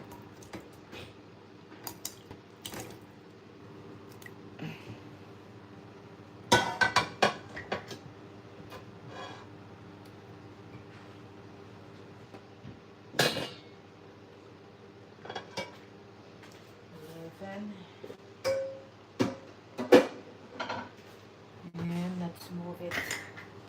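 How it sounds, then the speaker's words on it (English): Adobo moved from one pan into a bigger pan, with sporadic clinks and scrapes of utensils and cookware spread out over a quiet kitchen background and no one speaking. "Let's transfer it in a bigger pan"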